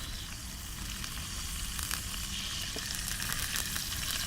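Small whole perch sizzles in oil in a pan over a campfire, a steady close crackling hiss with scattered pops throughout and no talking.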